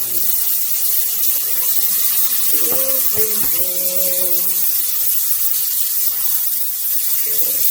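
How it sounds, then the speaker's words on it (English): Steady, loud hiss of running water during rinsing, continuous throughout, with a few brief tonal squeaks in the middle. "Alright, rinsing time."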